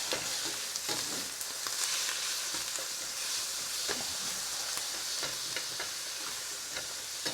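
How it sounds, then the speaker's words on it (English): Ground beef seasoned with Lawry's seasoned salt sizzles steadily in a hot pan, a dense, continuous frying hiss with scattered sharp pops and occasional stirring scrapes, close and alone. "Start browning that meat up,"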